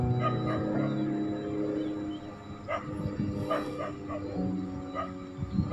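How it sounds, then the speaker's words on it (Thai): A dog barks and yips a few times in the distance over a steady rumble of passing traffic and low background hum. "ฟังเสียงหมาเห่า"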